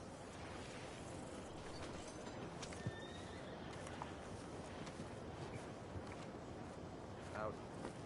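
In a video game, a horse whinnies briefly and its hooves clip-clop faintly beneath a low, quiet ambient wash, all heard at a distance.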